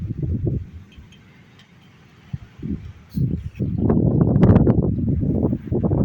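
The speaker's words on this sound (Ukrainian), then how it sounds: "погода страшне просто дує" Strong gusty wind blowing outdoors through a garden where flowering ornamental shrubs and irises grow, roaring loudly into the microphone in rising bursts, with a calmer stretch in the middle before the gusts build again.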